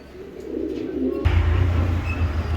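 Racing pigeons coo softly in a low, throaty murmur, then a louder burst of rumbling noise or wind takes over midway as the cooing carries on beneath it.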